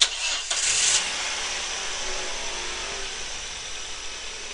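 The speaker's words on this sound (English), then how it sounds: "all I need to do now is simply start the engine" A car engine cranks and catches at the start of a battery, starter and charging test, with a short burst of noise, then settles into a steady, even idle that runs to the end.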